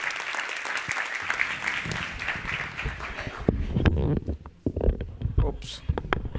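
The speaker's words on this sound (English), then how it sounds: "Please give him a big round of applause" Applause rises from an audience at the ISID 2025 inauguration as an ambassador is welcomed. Clapping runs under a speaker's voice at first, then gives way to closer talk with a few scattered claps.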